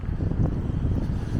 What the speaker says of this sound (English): It's a bit windy today, so I hope the audio is good enough anyway.